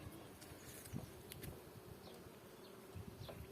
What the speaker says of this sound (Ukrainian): Метелики, бджілки тут літають.